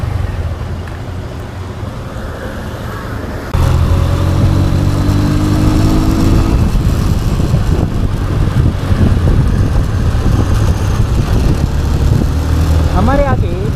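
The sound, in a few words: Honda X-Blade motorcycle engine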